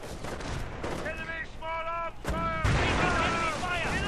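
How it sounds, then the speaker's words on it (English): Mortar fire in a war video game booms and crackles in quick succession amid a dense barrage of gunfire, loud and continuous, with a sharp whistling tone in the middle of the onslaught. "Mortar's coming down here."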